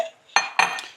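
Utensils clatter against a pot while a beef and cauliflower curry is stirred together, giving two sharp metallic knocks and scrapes close up in a quiet kitchen, each ringing briefly.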